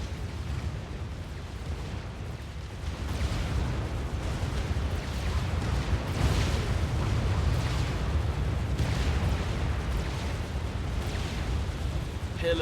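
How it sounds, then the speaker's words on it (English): Pillar tanks strafing across the front of a base in the Supreme Commander strategy game, producing continuous heavy rumbling explosions and booming weapon fire, dense and loud throughout with no pauses. "Pillars strafing across the front of the base"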